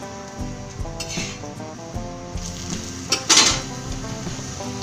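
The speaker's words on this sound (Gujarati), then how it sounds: "હવે આપણે થેપલું પલટાઈ દઈશું એની પાછળ આપણે તેલ સોપડીશું" A methi thepla, a fenugreek flatbread, sizzles on a pan after being flipped and oiled, with a steady frying hiss under clinks and scrapes of a utensil against the pan.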